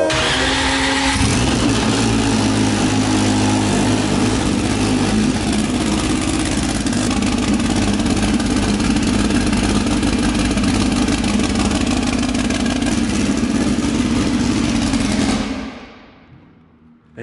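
A Honda B-series engine with aggressive cams idles close by with a loud, steady, lumpy rumble that runs for about fifteen seconds and then cuts off, with no voices over it.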